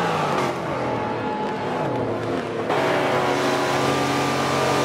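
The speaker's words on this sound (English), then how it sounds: "Christian Kemp, who is driving that Lamborghini Gallardo." Lamborghini Gallardo race car from Forza 7 at Homestead, its engine droning loudly and continuously with a steady high-revving tone that shifts pitch partway through, with no talking.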